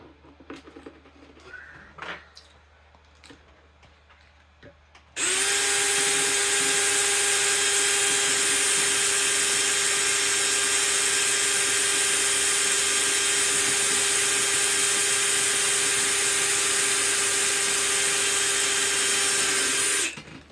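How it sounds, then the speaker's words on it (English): A power drill bores holes to mount a PC board. After a few seconds of quiet handling it starts with a loud, steady high-pitched whine that runs unbroken for about fifteen seconds and then stops abruptly. "I'm going to drill a couple holes first."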